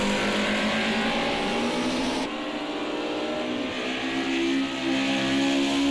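A BMW E30 M3 race car oversteers out of a corner at the Tillenbosch chicane; its engine holds a loud, close droning note that steps in pitch partway through and then climbs again under power.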